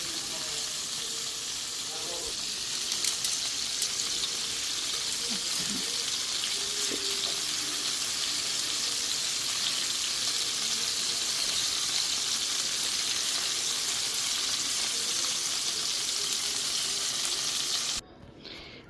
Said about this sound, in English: now that I have all beef in the pot, I fried it all